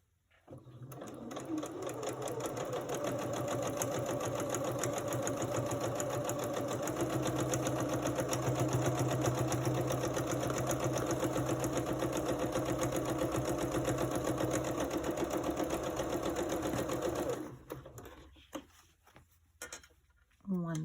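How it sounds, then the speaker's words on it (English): A sewing machine stitches a quilt in one long, steady, continuous run of fast mechanical chatter, loud and close, stopping near the end with a few small clicks after. "I don't know if you'll be able to see me sewing or not"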